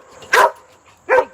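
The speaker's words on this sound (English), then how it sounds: "Stop barking." A dog gives two loud, close barks about three-quarters of a second apart in a quiet home, with nothing else sounding between them.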